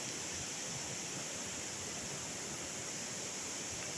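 Broad, steady rushing of river water in dense forest, a continuous even wash with no pauses, heard faintly from a distance.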